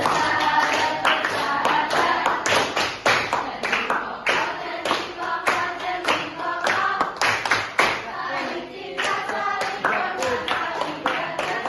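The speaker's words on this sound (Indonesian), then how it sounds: "Mari kita bertepuk dulu, yaitu SPK tepuk sahabat." Group of participants clapping together in a rhythmic tepuk sahabat pattern during a teacher-training class, sharp repeated claps in varied bursts with some voices mixed in, steady and close throughout.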